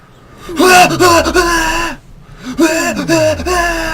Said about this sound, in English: This is the scream.